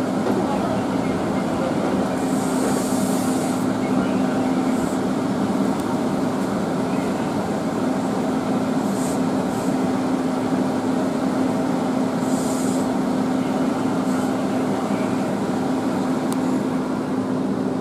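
KRL Commuterline electric commuter train at Manggarai station on an elevated track, a steady continuous rumble with a sustained low hum, plus intermittent brief hissing bursts, with no talking.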